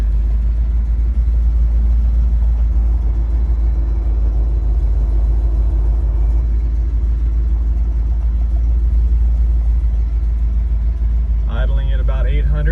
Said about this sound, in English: Idling at about 800, right where you'd want it.